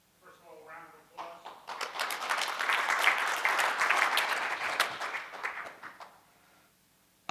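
Conference audience applause after a technical talk on fog computing security swells quickly, holds for about four seconds of dense clapping and fades out, with a voice speaking just before it begins.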